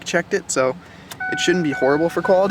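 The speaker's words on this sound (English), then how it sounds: "I'm going to put all the windows up here so you can see how dark the car gets" Power windows on a Ford Focus whirring shut, a steady electric motor whine lasting about a second beneath continuous close talking.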